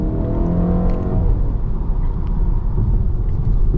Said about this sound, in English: let's get our acceleration here